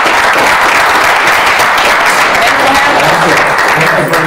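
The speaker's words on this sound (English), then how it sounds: "Can we all give a round of applause to everyone?" Sustained audience applause for speakers closing a real estate industry panel, a dense, even wash of clapping at steady loudness from start to end with crowd murmur mixed in.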